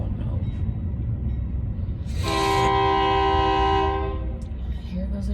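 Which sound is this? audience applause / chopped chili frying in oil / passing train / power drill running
passing train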